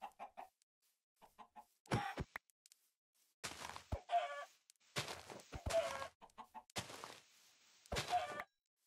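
Minecraft chickens in a modded game, several short clucking calls mixed with thunky in-game noises, clear and close with gaps of silence between.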